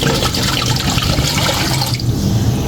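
Two liters of water pour steadily into a kadai (wok) as soup prep begins, a continuous loud splashing gush that runs the whole time and shifts slightly in tone near the end.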